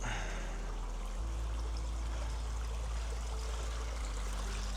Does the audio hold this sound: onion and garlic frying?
no